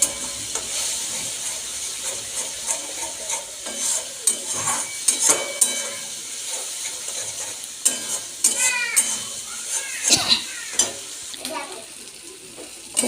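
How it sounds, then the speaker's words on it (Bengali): Spice paste for a raw catla fish kalia sizzling in a pan while a spoon scrapes and stirs it in repeated strokes, close and fairly loud with uneven bursts of frying. "খুব ভালো করে মশলাটা ভাজা হয়ে গেছে"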